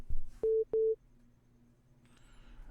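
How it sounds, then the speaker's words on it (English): A telephone gives two short, loud electronic ring tones in quick succession as an incoming call arrives, followed by a low background hum and faint higher tones. "I'm getting a phone call right now."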